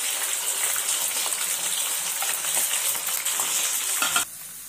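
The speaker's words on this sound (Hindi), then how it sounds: "इसको धीमा आंच पर ही फ्राई करना है, ज्यादा तेज नहीं करना है।" Proteiz chunks fry in a pan over a low flame, giving a steady, loud, close sizzle with faint stirring scrapes that cut off near the end.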